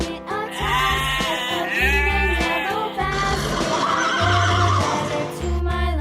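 A farm horse gives a loud, close whinny with a long, wavering neigh that rises and falls over steady backing music.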